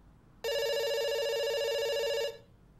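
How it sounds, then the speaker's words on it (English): A video game telephone rings once, a single bright sustained electronic ring of about two seconds, close and loud against a quiet background, with no talking. "It's ringing."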